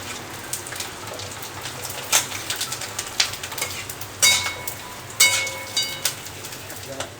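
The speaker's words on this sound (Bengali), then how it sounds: "বাইরে হচ্ছে বৃষ্টি" Rain falls outside in a steady soft hiss, with sharper drips and taps breaking through now and then, and pigeons cooing faintly in the background.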